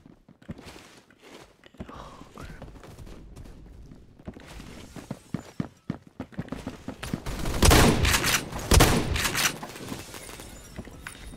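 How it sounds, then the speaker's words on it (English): Bursts of gunfire from a Phantom Forces video game shootout, with sparse shots and footsteps early, then loud rapid volleys clustered near the end. "What are you shooting at?"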